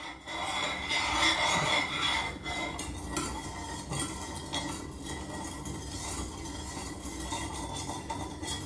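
Sugar syrup is stirred in a hot kadhai, producing a continuous dense scraping and rubbing of a spoon against metal, broadband and fairly loud throughout, with light clinks and no voices.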